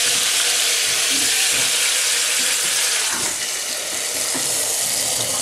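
Pork meat sears in a hot pan with a loud, steady sizzle and crackling spatter that continues without pause, close and dense.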